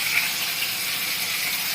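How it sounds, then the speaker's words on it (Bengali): Potatoes frying in a covered pan for a Bengali drumstick-flower, potato and eggplant ghonto, a steady, even sizzle that holds through the whole short stretch with no talk. "আলুটাকে একদম কড়া করে ভাজবো, লাল করে, একটু ঢাকা দিয়ে দেব"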